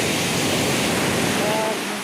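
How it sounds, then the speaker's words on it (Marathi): Sea waves washing up and drawing back over sand on a beach, a dense continuous roar of surf, loud and close, with a faint voice in the background. "लाट आल्यानंतर रिटर्न ज्यावेळेला जातो त्यावेळेला पायाखालची वाळू सरकत आहे."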